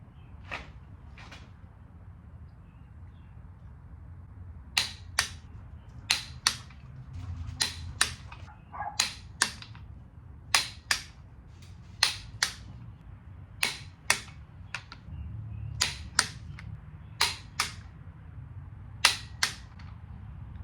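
A torque wrench clicks sharply while engine bolts are tightened to 70 foot-pounds during engine assembly, the crisp clicks coming in quick pairs and small clusters with short pauses, close and alone over a quiet background.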